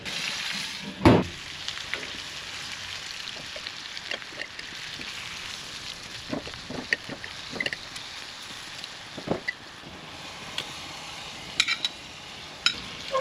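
Steak and onions fry in a cast-iron pan on an outdoor grill, giving a steady, close sizzle with scattered pops and crackles and a few sharp clinks of a utensil against the pan.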